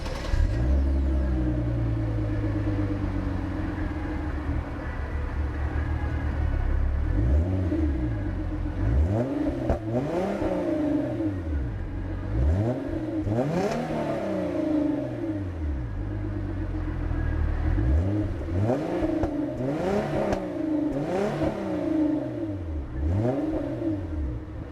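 A 2014 Hyundai Genesis Coupe with a 3.8-liter direct-injected V6 revs and accelerates up close, its engine note rising and falling through repeated sweeping pulls over a steady rumble, with no talk.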